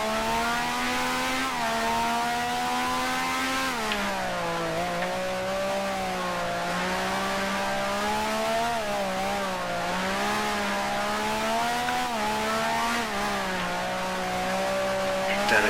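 A 1965 Grand Prix race car engine in the Grand Prix Legends racing game, droning steadily at high revs with repeated rises and dips in pitch as gears shift through a corner-heavy French circuit, loud and continuous with no talk.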